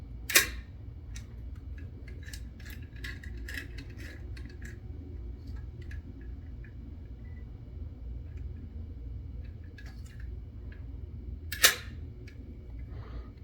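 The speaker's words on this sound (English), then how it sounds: "It doesn't sound like a standard shutter when it's in these higher speeds." Perfex Forty Four camera shutter fired at high speed, two sharp, close single clicks far apart, with faint small ticks and handling noises in between over a quiet background.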